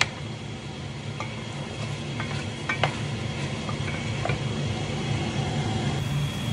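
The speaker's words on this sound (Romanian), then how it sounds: "las vreo 5 minute să se călească totul împreună" Chicken, potatoes and onion sautéing together in a pan, a steady moderate sizzle under occasional light clinks of a utensil, close and continuous with no voices.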